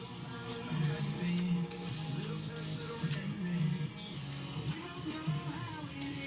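Short bursts of aerosol spray paint lay a tack coat on a 1999 Mercury Marquis side mirror, several hissing sprays with brief pauses between them, close by, over a low steady background hum.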